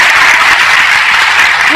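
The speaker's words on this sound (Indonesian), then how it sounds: "Tepuk tangan dong" A church congregation claps during a sermon, a brief loud burst of dense applause filling the whole moment.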